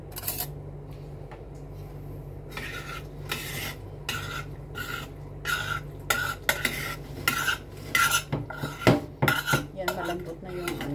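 Cooking pot being scrubbed and washed with utensils, with repeated metallic clanks and scraping of cutlery against the pot in an irregular rhythm, close and fairly loud over steady background hum.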